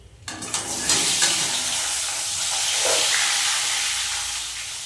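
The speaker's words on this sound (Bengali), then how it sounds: "এবার দিয়ে দেবো কেটে রাখা আলু" Cut potatoes tipped into a hot pan of oil for a Bengali rohu fish-head muri ghonto, bursting into a loud, steady sizzle with a brief clatter at the start, hissing on without talk.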